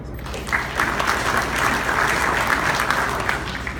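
Steady audience applause after a list of people is thanked, many hands clapping densely and evenly at moderate loudness for several seconds, with no voices over it.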